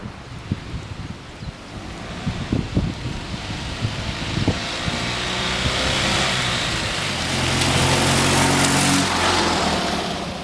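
A Fiat 126p Maluch's small engine running outdoors: a rough, uneven putter early on that settles into a steadier, louder drone, buffeted by wind noise throughout, with no voices.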